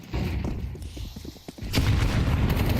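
A grenade detonates in Counter-Strike 2 during a match on the Inferno map, a sudden loud broadband blast that follows a stretch of quieter gameplay clatter and footsteps and then holds as a dense rumbling roar to the end.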